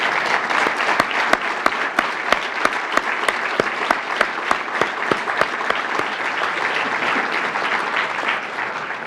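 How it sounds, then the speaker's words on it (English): Applause from an audience at an NYPD event honouring the department's executive staff, a steady dense clapping sustained throughout with sharp individual claps standing out, fairly close and with no talk over it. "we'll give you a round of applause"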